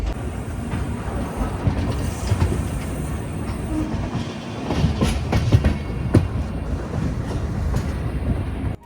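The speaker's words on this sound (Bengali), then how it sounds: "ট্রেন কিন্তু মালদা ঢুকছে" The Gour Express, an LHB-coach train from Sealdah, rolls into Malda junction on a cold evening, its steady rumble and clickety-clack of wheels over rail joints sounding close and continuous, with sharper metallic clanks toward the end.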